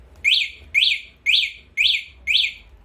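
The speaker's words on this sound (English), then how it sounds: "This last button here is a panic sound button where it will make 5 sounds for you to locate your bike" An electric bike's panic alarm gives five evenly spaced, bright chirping beeps, each rising and falling like a short electronic bird call, loud and clean with silence between.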